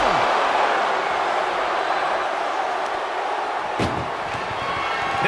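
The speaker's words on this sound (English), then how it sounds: "Get them in the ambulance and slam the doors." Ambulance doors slammed shut during a women's wrestling match between Meagan and Xia Li, a single sharp bang standing out over a steady roaring arena crowd.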